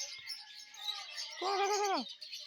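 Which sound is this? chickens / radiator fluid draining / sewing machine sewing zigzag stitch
chickens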